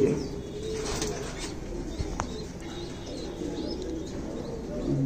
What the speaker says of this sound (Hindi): ये भी मेरा गोल्डन कबूतर